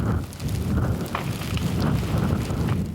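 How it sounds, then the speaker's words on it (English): Freezing rain during the 1998 Montreal ice storm, a dense steady wash of falling precipitation with low wind rumble, continuous and fairly loud throughout without voices. "The freezing rain won't let up."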